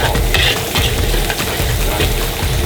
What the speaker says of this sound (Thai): นี่นะลงไปผัดต่อ